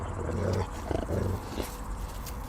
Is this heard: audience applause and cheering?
no